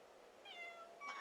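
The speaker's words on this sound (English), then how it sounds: "She's got the cutest little meow." A house cat gives a single soft, drawn-out meow, quiet and close with a slight upward lilt, heard alone in a calm indoor room.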